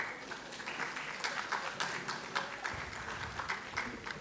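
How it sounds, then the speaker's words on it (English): An audience at a plenary session of a youth consultation conference claps for an introduced speaker, a faint, steady patter of many hands continuing for several seconds. "So please give a round of applause for her."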